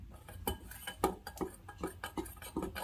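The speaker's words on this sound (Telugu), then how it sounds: "ఇప్పుడు మనం ఒక బౌల్ తీసుకొని కార్న్ ఫ్లోర్ 1 కప్పు, మైదా 1 కప్పు, సాల్ట్ 1/2 టేబుల్ స్పూన్ వేసి 3 పదార్థాలు కలిసేలా ఒకసారి మిక్స్ చేసుకోవాలి" Cornflour, maida and salt being mixed in a bowl, with a spoon knocking and scraping against the bowl in regular clinks about every half second, quiet and close with no talk.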